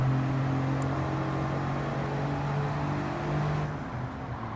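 A turbocharged kei car engine in Gran Turismo 7 drones steadily on a Nürburgring time trial, a constant close engine hum with a faint whir that stays even throughout.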